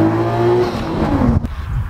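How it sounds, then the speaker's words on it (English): A 1991 Nissan Skyline GTS-T Type M engine holds a loud, steady drone close by, then drops off abruptly with a brief, sharp sweep as the revs fall. "This is my 1991 Nissan Skyline GTS-T Type M"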